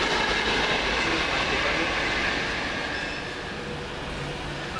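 Virgin Trains 11-coach Pendolino pulling out of Crewe Station, a loud, continuous rumble and rush of wheels and motors that eases slightly as it moves off.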